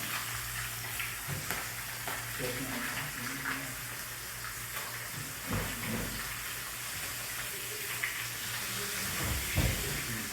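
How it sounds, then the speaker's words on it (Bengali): Whole sea fish, head included, frying in a pan, giving a steady close sizzle and spatter with occasional louder bursts and knocks, no speech heard. "মাছ ফ্রাই হচ্ছে এখন"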